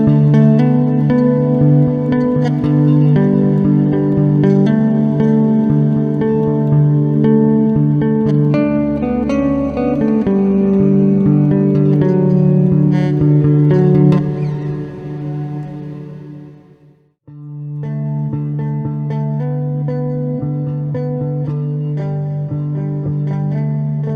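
Sustained bass notes wash into a huge, lingering reverb tail from the H9 Black Hole reverb algorithm, swelling and blurring together before briefly dropping out and returning.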